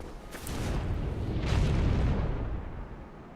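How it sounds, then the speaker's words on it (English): A drake breathes fire in Dark Souls Remastered: a loud, sustained roaring whoosh that swells toward the middle and slowly fades, with no talking over it. "Because I do believe he will breathe fire into that room"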